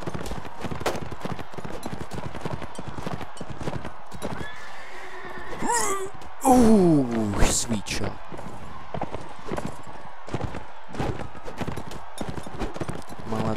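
In the Mount and Blade game, horse hooves clip-clop steadily through the scene, broken by a loud horse neigh midway, while someone talks over the action.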